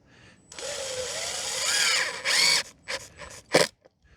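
Cordless screw gun driving screws to fasten a mouse guard onto a beehive entrance, a rising whir that holds for about two seconds, then several short, sharp bursts close by.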